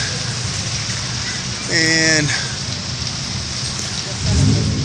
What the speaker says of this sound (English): I'm out here and it started raining